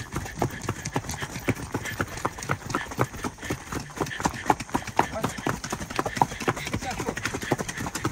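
A mare's hooves clip-clop steadily and close on the ground during a group horse ride, a quick even rhythm that runs throughout while people talk over it.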